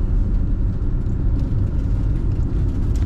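A 1999 Ford Mustang SVT Cobra convertible with a 5-speed manual is on the move, with a steady low engine drone and road rumble throughout and no voices.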